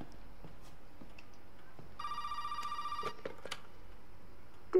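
A telephone in Resident Evil 7 on Xbox One S gives a single electronic ring lasting about a second, clear over a low, quiet game ambience with a few faint clicks.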